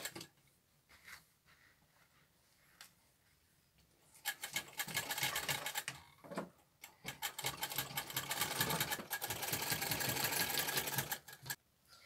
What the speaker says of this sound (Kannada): ಈ ರೀತಿ ನೆರಿಗೆಗಳಿಗೆ ಒಂದು ರಫ್ ಹೊಲಿಗೆನ ಹಾಕೋಬೇಕು.